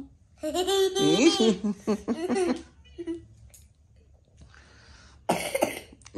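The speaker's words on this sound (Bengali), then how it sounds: "তোমার কাশি হয়েছে নাকি?" A young child babbles and makes laughing vocal sounds, then after a short quiet gap gives a brief, harsh cough burst near the end, heard up close indoors.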